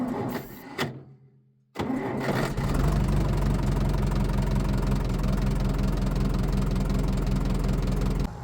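A bulldozer's diesel engine is heard after a short pause, then a steady loud idle with a rough, knocking mid-range rumble settling in and running continuously on a foggy farm afternoon.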